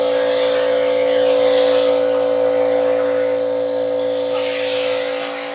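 Pressure washer spraying foam onto an AMG Black Series car, a loud, steady pump hum with a broad hiss of spray running unbroken and close throughout, no talking.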